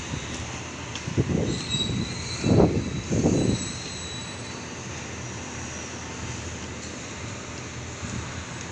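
A D Set train passes through Redfern station in Sydney with a rolling rumble and a few louder clunks in the first few seconds, then settles into a steady moderate rumble with no talking.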